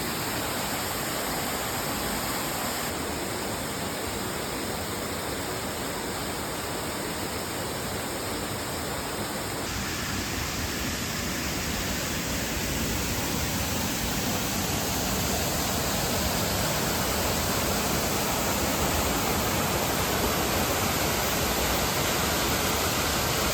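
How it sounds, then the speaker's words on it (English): A waterfall in Georgia roars steadily in a loud, unbroken wash of rushing water that grows slightly fuller over time, with no voices heard. "We're down to another waterfall."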